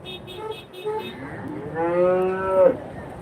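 Cattle at the Chintamani cattle market give a loud, drawn-out moo that rises and swells near the end, heard close by after some brief background sounds.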